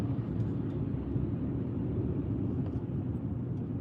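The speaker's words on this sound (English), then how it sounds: "Oh, it's a car. Might be a vehicle up ahead." A car drives nearby on a street in Harvey, Illinois, giving a steady low engine and road rumble that holds at an even level throughout without rising or fading, with no talking.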